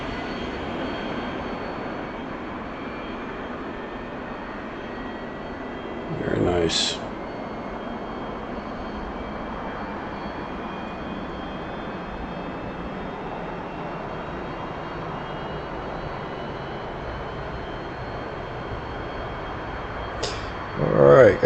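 F-15EX jet engine spooling up during startup in the DCS flight simulator, a steady broadband turbine whine and rumble holding throughout with brief louder bursts, while someone talks over it.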